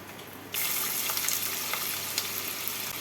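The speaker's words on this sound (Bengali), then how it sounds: "তেলটা গরম হয়ে গেছে এর মধ্যে আমি এবার দিয়ে দিচ্ছি দুটো মিডিয়াম সাইজের কুচনো পেঁয়াজ" Two medium chopped onions hit hot oil in a pan and burst into a loud, steady sizzle that starts abruptly after a moment of quiet and continues close up without talk.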